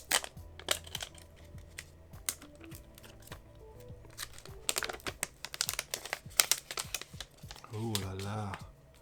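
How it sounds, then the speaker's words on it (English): Thin plastic wrap crinkles and peels off a new Xiaomi Redmi Note 10 Pro phone in short, close crackling bursts with small taps, ending in a brief hum of voice. "let's unwrap this together"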